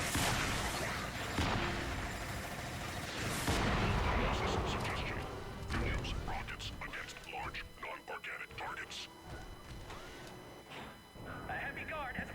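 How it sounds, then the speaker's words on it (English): Rocket launches and rapid chain gun fire from a heavy mech in the video game The Chronicles of Riddick: Escape from Butcher Bay, loud booms and clattering bursts throughout, with a voice talking over the action. "I'm just gonna shoot with 2 missiles or rockets and some chain gun fire"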